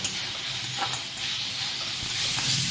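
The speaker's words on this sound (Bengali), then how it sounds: "এবার মশলার সঙ্গে সমস্ত আলুটাকে আমি ভালো করে কষিয়ে নেব।" Boiled potatoes are stirred and sautéed with spices in a pan, a soft, steady sizzle with faint scraping stirs running alone throughout.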